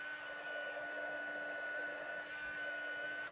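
A heat gun blows steadily while heat embossing a small cut corner piece for a handmade card, a constant whirring rush with a fixed hum that holds evenly for about three seconds and cuts off at the end.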